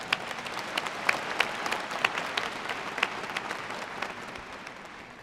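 Audience at the 2018 Timberland High School graduation applauding principals, assistant principals and special guests, a fairly distant, sustained crowd clapping with sharper individual claps standing out.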